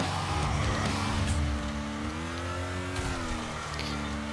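An engine revs hard in a car racing in Wreckfest, with a skidding screech and a shifting engine pitch partway through, loud and close with no speech.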